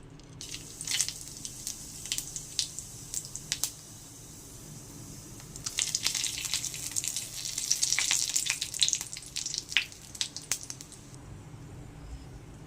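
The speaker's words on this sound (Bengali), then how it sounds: "তেলের মধ্যে দিয়ে দেবো গোটা জিরে, শুকনো লঙ্কা, তেজপাতা।" Whole cumin seeds, dried chillies and a bay leaf frying in hot oil in a kadai, giving faint crackling and sizzling pops that come in scattered bursts and build to a denser patch midway before fading.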